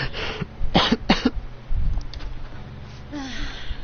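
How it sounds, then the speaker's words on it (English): A character in the video game Persona 5 Royal coughs in several short harsh bursts, close and clear, followed by a throat-clearing breath. "I can't stop coughing."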